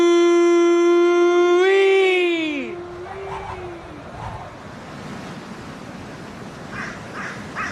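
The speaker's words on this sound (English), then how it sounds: "Nothing but a crow." A crow caws loudly in a radio drama sound effect, a few harsh drawn-out calls that fall in pitch, then fade into a low wash of wind and surf-like noise.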